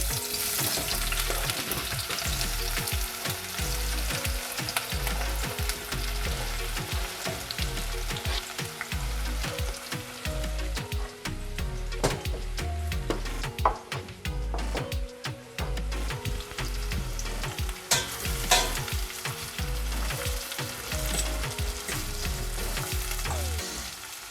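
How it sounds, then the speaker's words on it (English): Onions fry in a pot for curry masala rice, a loud, continuous sizzle under frequent scraping and knocking from a stirring spoon, close up and sustained with no speech. "Stand here and keep stirring the onions because you don't want them to burn."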